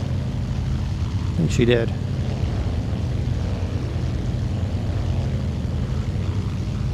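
A Douglas World Cruiser propeller engine in a flight game drones steadily and loudly, with a brief surge in power partway through while a voice speaks briefly.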